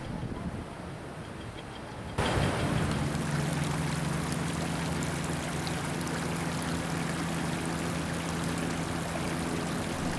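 A mountain stream flows beside a meadow near a cave at Kedarnath, a steady, loud rushing wash that starts abruptly after a quieter opening and continues evenly to the end.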